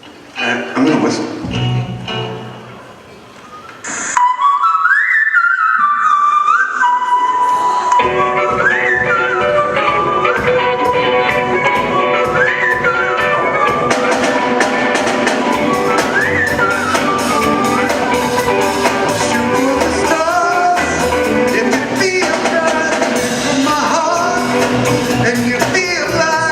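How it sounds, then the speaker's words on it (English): A whistled melody at a high school talent show, rising and falling in clear phrases over loud backing music with crowd noise and shouts, the whistle quite near and prominent. "I'm gonna whistle."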